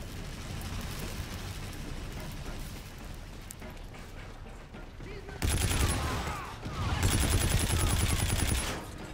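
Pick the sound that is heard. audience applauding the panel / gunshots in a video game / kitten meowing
gunshots in a video game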